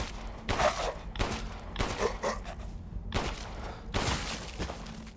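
Gunfire in the video game Resident Evil Village: four loud, close bursts of shots spread over several seconds, each sharp and crackling, separated by short lulls of background ambience.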